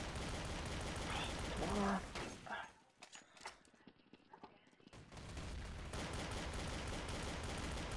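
Rapid bursts of gunfire from a Counter-Strike: Source match: loud clustered shots in the first seconds, a quieter lull, then dense firing that resumes and carries on to the end, with a brief voice speaking over it.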